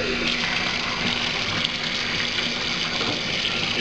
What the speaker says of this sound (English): kind of build up some water, and then watch to see how it drains.